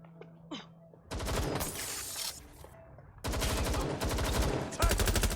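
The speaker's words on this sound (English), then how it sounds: "taking fire!" Video game gunfire from Watch Dogs Legion: two long, loud bursts of rapid automatic fire, the first starting about a second in and the second more intense, separated by a short lull with faint background sounds.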